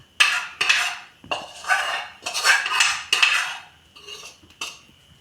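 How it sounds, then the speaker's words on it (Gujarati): Frothy dhokla batter poured and scraped into a steel plate, several loud, close clattering metallic scrapes and knocks in an irregular run with brief pauses between them. "હવે આપણે એને થાળીમાં રેડી દઈશું"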